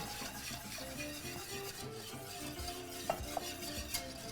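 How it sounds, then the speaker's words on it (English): A whisk beats a roux in a pan, making rapid, continuous scraping and swishing with a light sizzle underneath, close and fairly quiet, with a couple of sharp taps against the pan near the end. "we're just going to whisk until it starts to thicken"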